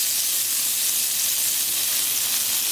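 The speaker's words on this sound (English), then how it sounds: "About 1 tablespoon worth of butter, and let the butter melt." About a tablespoon of butter melts in a hot pan, producing a steady, even hiss of bright sizzle that holds at a constant loudness with no pauses or voices.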